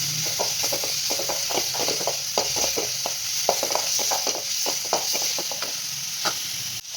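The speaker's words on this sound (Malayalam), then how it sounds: "ഇഞ്ചി വെളുത്തുള്ളി പേസ്റ്റും ഒന്ന് മൂപ്പിച്ചെടുക്കാം" Ginger garlic paste sizzles in hot oil for a South Indian chicken chukka, with a constant loud hiss broken by quick, rhythmic scrapes and clicks of stirring, and no voices.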